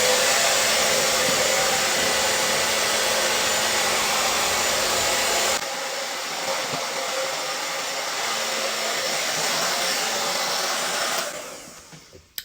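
A hair dryer fitted with a diffuser blowing steadily on curly hair, a loud continuous roar that drops to a lower setting partway through before switching off near the end.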